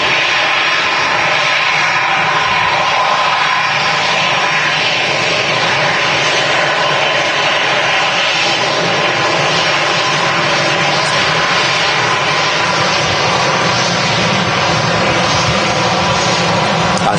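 An easyJet airliner rolls down the runway at Manchester Airport, its jet engines producing a continuous, loud, broadband roar that holds steady throughout with no talk over it.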